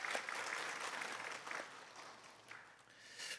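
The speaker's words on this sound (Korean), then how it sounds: "우리를 은혜의 강가로 인도하실 주님께 영광의 박수, 감사의 박수 올려드리겠습니다." Congregation clapping during a Korean Sunday afternoon church service, a dense, even patter of many hands heard from a distance, fairly faint, steady then easing slightly before swelling again at the end.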